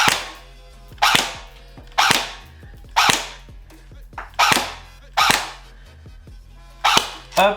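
A Thompson M1A1 metal airsoft gun from Snow Wolf fires about eight single sharp shots at roughly one-second intervals, loud and close, each crack ringing briefly against a low background hum with no speech.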